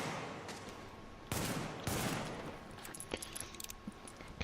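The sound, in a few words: pistol gunfire in the video game The Division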